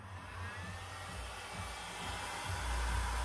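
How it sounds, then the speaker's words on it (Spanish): A household hair dryer blows steadily on fluid acrylic paint being pushed from the centre outward, a continuous close whooshing roar that swells slightly toward the end. "ahora vamos a coger un secador de pelo normal, un secador de pelo de la casa"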